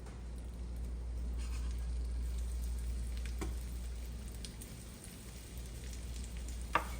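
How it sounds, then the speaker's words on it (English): Fish fillets for tacos frying in a hot pan, a soft steady sizzle over a low hum, with a few faint clinks and a sharper tap near the end. "we're gonna start frying all this fish. Let it sizzle."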